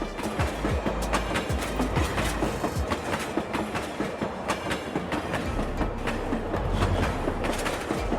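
Animated cartoon train running along the tracks: a continuous, loud rhythmic clickety-clack of wheels over rail joints with a deep rolling rumble throughout, close and unbroken, with no speech.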